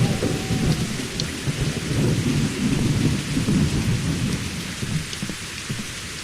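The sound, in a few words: rain and thunder in video game Survival Postapocalypse Now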